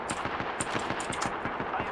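Rapid sniper gunfire in a video game, a steady fast rhythm of sharp repeated shots, loud and continuous with no talk.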